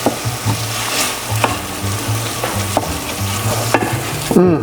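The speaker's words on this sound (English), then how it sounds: "we'll deglaze it with the white wine" Risotto rice in olive oil and butter being deglazed with white wine for leek and arugula risotto, a loud close sizzle under rhythmic stirring scrapes of a spoon in the pan, ending in a brief sharp hiss.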